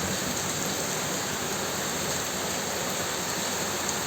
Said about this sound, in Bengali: দেখেন ও বৃষ্টি হচ্ছে